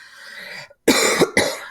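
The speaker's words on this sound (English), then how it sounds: "sorry about my cough." Someone coughs a few times: a breathy exhale fading out, a brief silence, then two sharp, close coughs in quick succession.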